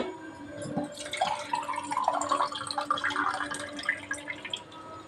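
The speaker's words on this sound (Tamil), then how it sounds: "அரிசி போட்டு இப்போ தண்ணி ஊற்றிடலாம்" Water splashes and trickles steadily into a cooking pot of rice for soya biryani, a continuous liquid gush with bright splattering, fairly close and with no talking.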